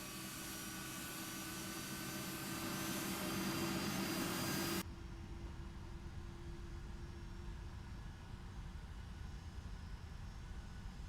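Jet airliner in the X-Plane 11 flight simulator takes off with a steady loud roar that cuts off abruptly midway, leaving only a faint low rumble.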